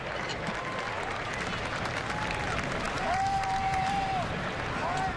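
A steady roar from a Brewers ballpark crowd on a Friday afternoon at a Cubs-versus-Milwaukee game, with scattered whistles rising above the broad wash of noise and a voice talking over it.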